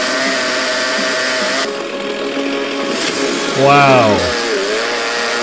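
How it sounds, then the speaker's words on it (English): A chainsaw drones steadily and loudly, with a voice speaking over it and a brief exclamation near the end. "Oh, and I have a chainsaw."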